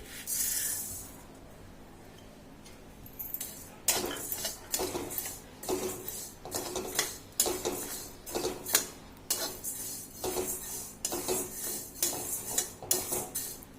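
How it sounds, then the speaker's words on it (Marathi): Urad dal being dry roasted in a pan while making thalipeeth bhajani flour, with steady rhythmic scraping and clinking of a spatula against the pan, close and fairly loud after a quieter start, with no talk. "आपण आता उडदाची डाळ भाजून घेऊ"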